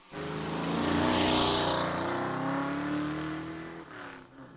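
A race car in the Loup 2 Loup race in Halsey revs and pulls away, a loud, close engine roar that swells, holds and then fades as the car leaves.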